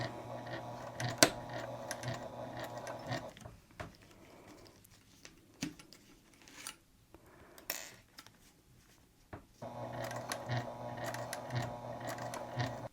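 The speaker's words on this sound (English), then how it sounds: "we'll start off the back stitching" A sewing machine back stitching a hip bag hums in two running stretches with a steady mechanical whir, separated by a quieter pause filled with faint handling clicks and taps.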